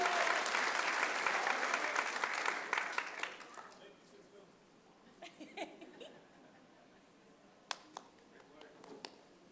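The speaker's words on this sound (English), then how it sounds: "let's give him a round of applause" Applause from a city council meeting audience welcoming the youth sports coordinator, a dense burst of clapping for about three seconds that thins into scattered claps and a few late ones.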